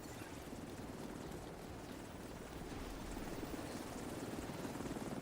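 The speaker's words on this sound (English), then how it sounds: "Kilo's ready for pickup. Helo is on site." A helicopter arrives in The Division 2 video game, its steady rotor drone and engine roar loud and continuous throughout, swelling slightly toward the end with no talk over it.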